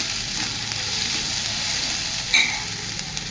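Onion sautéing in a pan for Maharashtrian pitla, a steady close sizzle and crackle with a brief sharper spatter or stir near the end.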